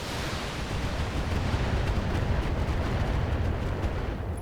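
A volley of LRM missiles launching in the Battletech video game, a dense rumbling roar of overlapping blasts and whooshes that holds steady and loud throughout, with no voice over it.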